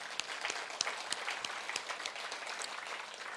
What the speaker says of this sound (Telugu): ఆయనకు ఒకసారి గట్టి క్లాప్ చేద్దాం.